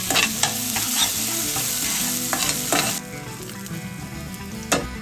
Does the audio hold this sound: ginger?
yes